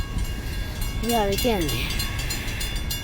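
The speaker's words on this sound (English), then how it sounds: "That's just funny how slow the train's going." A BNSF empty coal train rolls slowly past with a low rumble and faint rail clatter. Someone speaks briefly over it, while a sliding tonal sound comes and goes in the middle.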